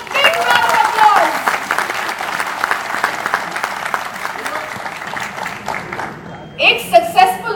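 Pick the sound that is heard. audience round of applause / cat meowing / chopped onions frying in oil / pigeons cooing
audience round of applause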